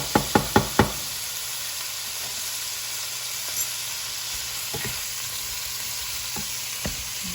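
Garlic and food fry on a hibachi griddle at home in a steady close hiss. Four quick knocks of a metal utensil come first, then a few scattered taps sound over the sizzle.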